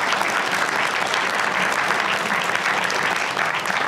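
Steady, loud applause from a games festival audience congratulating Sumo Digital on its award, dense continuous clapping from a full room with no gaps.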